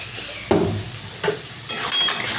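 Spice masala with tomato being sautéed in a pan, with a utensil scraping and stirring in short bursts over a steady low sizzle, close and fairly quiet, with no talking.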